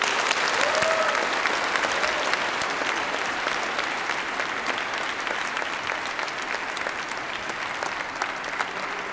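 Sustained, dense applause from a large audience at an advocacy speech event, honoring Scott, Nancy and Heather Kingsley, holds steady and loud for about nine seconds with no talk over it.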